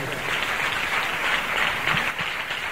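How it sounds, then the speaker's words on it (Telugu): A church congregation at a Christian worship service claps loudly and continuously, a dense sustained burst of applause filling the hall without pause. "చప్పట్లు కొడతాం గట్టిగా."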